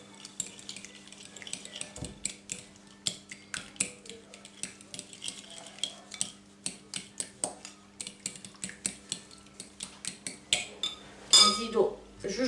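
Utensil scraping and clinking against a pan while chicken quiche filling is stirred, repeated short metallic scrapes in a steady rhythm over a faint steady hum, close by.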